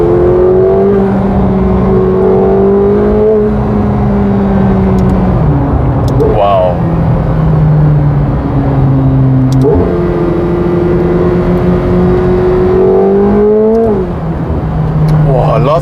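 McLaren 750S V8 revving in sport mode from inside the cabin, the engine note rising and falling in long sweeps across several throttle blips, loud and close with a voice talking over it.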